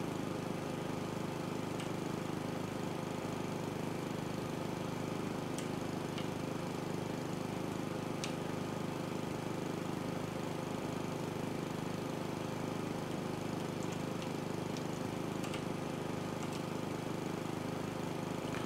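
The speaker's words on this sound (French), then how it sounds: "C'est bien, c'est pratique la tondeuse à travers les murs." A lawn mower engine drones steadily in the House Flipper video game, a constant loud hum that runs unbroken throughout with no other sounds.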